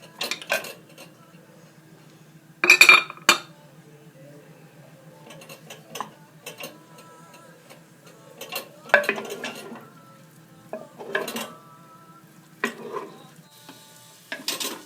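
Onions and meat sautéing in a cooking pot for Algerian chorba frik, stirred with a utensil: scattered scraping clinks against the pot over a faint background sizzle, close by with no talking.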